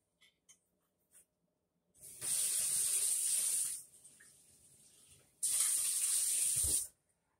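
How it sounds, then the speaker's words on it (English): Water runs from a tap into a measuring cup to fill one and a quarter cups for stir fry and rice, in two loud gushing bursts with a quieter trickle between them, heard close up. "we're going to put one and a quarter cup of water"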